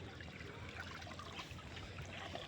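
Water current running past fishing nets in a Bangladeshi river, heard as a soft, continuous gurgling trickle with no voices, fairly faint and steady throughout.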